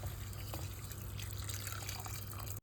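Water poured into a pot of soaked basmati rice with spices, a steady close splashing and trickling pour lasting a couple of seconds before stopping abruptly.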